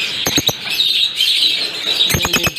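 Violet lovebirds in breeding cages give sharp, close chirps in two quick bursts, one near the start and one near the end, over a constant high twittering from the surrounding flock.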